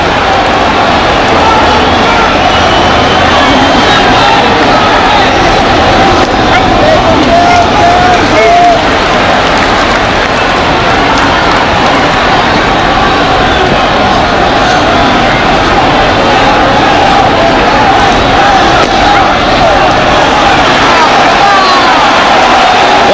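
A capacity crowd fills a baseball stadium at a 1997 Canada Day game between the Montreal Expos and Toronto Blue Jays, a steady loud roar of murmuring fans under continuous play-by-play commentary.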